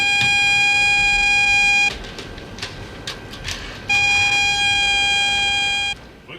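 A loud, harsh ship fire alarm tone blares for about two seconds, falls silent while faint knocks sound, then blares again for two more seconds.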